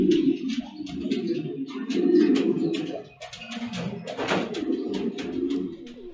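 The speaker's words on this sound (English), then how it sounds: "Now showing white pair of Hungarian Giant House Pigeon" A white pair of Hungarian Giant House Pigeons coo in soft, low, repeated throaty phrases close by, with light rustles and a faint clatter in the background.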